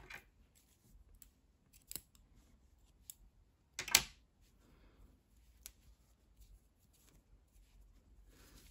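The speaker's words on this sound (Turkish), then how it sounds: "İpliği kesiyorum." Scissors cutting yarn after finishing a crocheted piece: a few quiet, crisp snips spaced apart, with one louder cut near the middle, close by in an otherwise quiet room.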